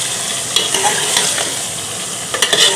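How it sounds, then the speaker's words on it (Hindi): Chopped onion, garlic, ginger and green chili fry lightly in a pan for a beef stew, giving a close, steady sizzle broken by scraping stirs with a spoon, with no talk. "मिर्ची भी हम इसके अंदर शामिल कर देंगे। इसको भी हल्का भून लेंगे"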